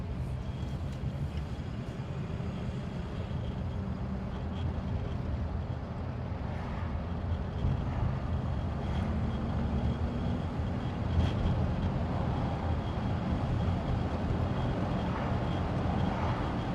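A 1954 Pontiac Star Chief classic American car driving through a roundabout, a steady low engine and road rumble heard from inside, even and continuous with no talk.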